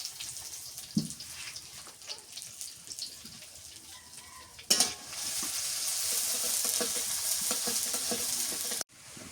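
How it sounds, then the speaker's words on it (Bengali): Onions frying in a pan with bay leaf, cinnamon and cardamom in a home kitchen, a soft scraping stir and light crackle that swells into a loud, steady sizzle for the second half. "পেঁয়াজ ভাজা হয়ে গেছে"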